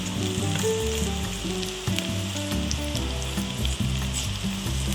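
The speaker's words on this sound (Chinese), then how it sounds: "直接放入菇类煎香" Mushrooms frying in leftover oil in a pan after chicken thighs were browned, giving a steady, loud sizzle throughout with music playing over it.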